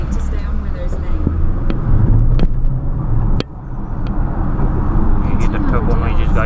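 Steady engine drone from a Mercedes-Benz GLB 1.3 litre petrol hybrid turbo while driving, with a rising turbo whine under ongoing talk and a brief dip partway through.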